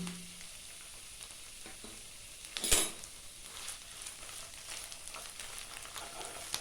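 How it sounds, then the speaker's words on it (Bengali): Spinach shukto cooks in a pan with a drizzle of raw oil, a faint low sizzle with soft stirring scrapes and one brief louder clatter near the middle, no talking. "এবার আমি একটু কাঁচা তেল ছড়িয়ে ভালো করে মিশিয়ে নিচ্ছি"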